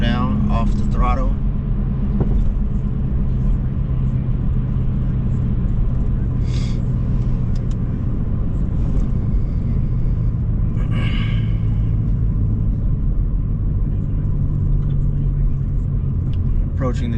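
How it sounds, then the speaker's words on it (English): A car's engine and road noise rumble steadily inside the cabin as it eases off the throttle and slows toward a red light, with a low, continuous drone throughout. "My foot is over the brake so I can slow down off the throttle."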